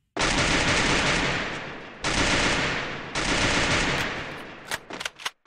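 A high rate-of-fire gun in the Free Fire video game unleashes loud, dense automatic bursts. Two long sustained volleys are followed by a third that breaks into a few scattered final shots.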